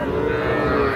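A bull calf at a cattle market at Ambari haat lows in one continuous, loud, close moo that fills the whole short moment, with no talk over it.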